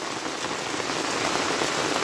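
Heavy rain that began the previous evening pours down steadily, a loud, dense hiss of drops striking surfaces all around, with no talking over it.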